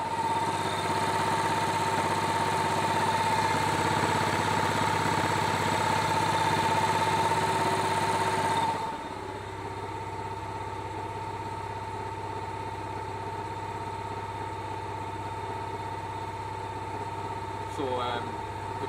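Small generator engine running under Arduino throttle control, with a loud steady drone and strong hum that drops suddenly to a quieter, lower idle about halfway through, then holds steady.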